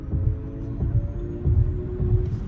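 A 2022 Kia EV6 electric car's synthetic driving sound, a low hum throbbing steadily, swelling in soft pulses roughly every half second, with no voices.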